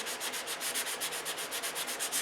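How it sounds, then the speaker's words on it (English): Detail sanding on a control-line model aircraft: a steady, close, rhythmic scrubbing of sandpaper in quick back-and-forth strokes, alone. "it's a little bit of detail sanding"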